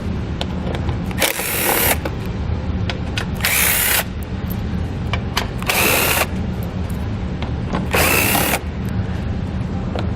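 A power tool with a 7mm socket backs out bolts on a Roadmaster base plate, four loud whirring bursts of about half a second to a second each, separated by pauses filled with a steady hum.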